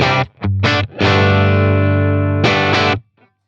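Electric guitar through a Boss Katana amp with no effects engaged, a few loud sustained chords with short breaks between them, the last chord cut off abruptly into near silence, close and clear.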